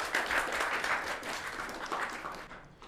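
Warm applause from a company meeting audience welcoming a newly appointed China-region vice president to speak: dense, sustained clapping from many hands, fairly close, easing off near the end.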